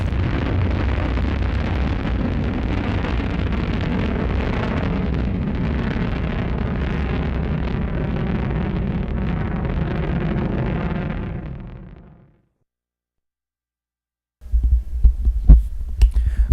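Space shuttle liftoff in the video game Sonic Adventure 2 gives a loud, sustained, dense roaring rumble that fades out to silence, then a short burst of heavy low thumps follows.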